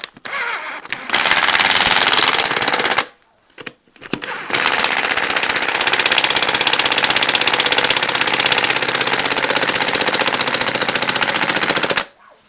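Impact wrench with a 3/4 socket hammering wheel nuts tight during a rebuild of a 1968 Regal 3/25 Super, in loud, rapid rattling bursts of several seconds with a brief pause between, close up and without voices.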